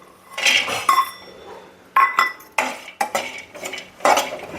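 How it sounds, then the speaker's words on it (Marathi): Coconut is dry-roasted and stirred in a pan for black sesame chutney. A spoon clinks and scrapes against the metal in short uneven bursts, close and clear, with no talking. "आता मी खोबरं जरा भाजून घेणार आहोत."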